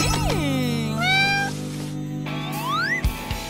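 A cat meows loudly several times in a row over a steady low hum, each call with a rising, stretched pitch, from a pet kitty in a playful craft setting.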